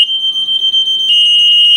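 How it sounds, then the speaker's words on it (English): A building fire alarm panel sounds for a chute fire, giving a steady, loud electronic tone that holds continuously for the whole stretch with no break and no voices. "it's a chute fire alarm."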